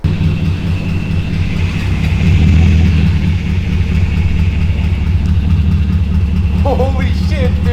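BMW engine running with a ticking exhaust leak, steady low rumble and idle drone filling the whole stretch, close and loud, with a brief voice near the end.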